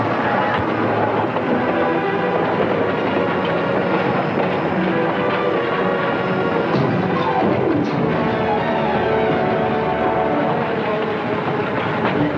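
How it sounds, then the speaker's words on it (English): A train in a 1955 Western film runs along the tracks with a loud, continuous rumbling clatter that fills the whole stretch without a break. "When the train stops"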